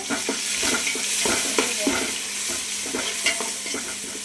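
Ground onion paste for a chicken and mutton curry being stirred and sautéed in a pan, with a steady sizzle broken by repeated scraping strokes of a spoon, fairly close and with no talk.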